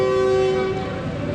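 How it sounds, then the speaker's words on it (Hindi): Awam Express gives a final whistle as it pulls away from platform 1 at Nowshera Junction. A sustained tonal blast fades after under a second over a steady rumble of train and station noise. "फाइनल विसल के साथ मूव हो गई है 14 टाउन अवाम एक्सप्रेस नौशहरा जंक्शन से"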